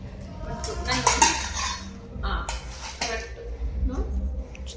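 A small non-stick pressure cooker is handled while being unboxed, giving close, irregular metallic clinks, knocks and scrapes against a soft rustling background.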